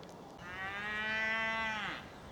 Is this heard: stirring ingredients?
no